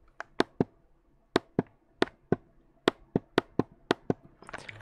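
Crisp, isolated clicks from a small gold knob on a computer keyboard, about a dozen sharp ticks in an uneven rhythm, close and clear, with faint rustling at the end.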